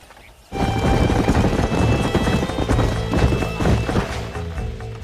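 Steady clip-clop of horses' hooves trotting on hard ground in the video game Red Dead Redemption, dense and continuous, with occasional thumps and knocks mixed in; no talking.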